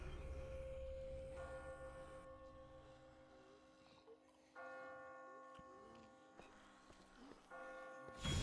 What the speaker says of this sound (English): Who's ringing the damn bells?